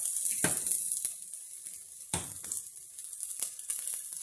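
Garlic sizzles in hot oil in a pan while oxtails cook, giving a steady bright hiss broken by a few sharp crackling pops, with no voices.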